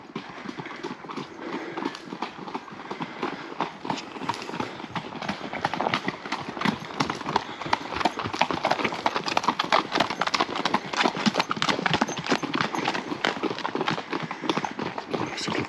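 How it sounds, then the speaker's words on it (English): Several horses canter past on a path near Castell de la Punta de n'Amer, Mallorca, a dense, rising clatter of hoofbeats that grows louder as they draw near and stays busy throughout, with occasional faint snorts. "we'll let the horses go by now"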